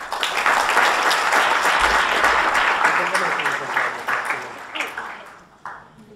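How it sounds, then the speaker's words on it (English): Audience applause at a sports law symposium, a dense burst of clapping that swells, holds for several seconds and then thins out with a few scattered late claps. "Let's give her a round of applause."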